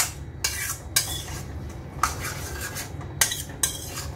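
A spoon stirs a pot of egg avial, scraping and clinking against the metal in a steady rhythm of about eight close, distinct strokes over a low simmering background, with no talk.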